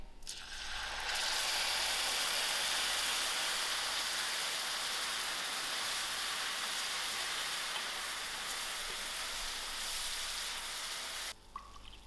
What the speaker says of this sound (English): Gradually I'm going to add in my 1 cup of water.